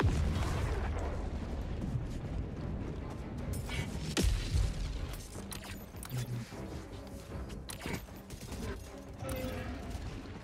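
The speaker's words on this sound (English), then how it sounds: "Calling down a sentry!" Automatic sentry turret in the Helldivers 2 video game firing during a bug fight, a dense run of loud gunshots and explosive booms layered over constant game-battle noise for the whole stretch.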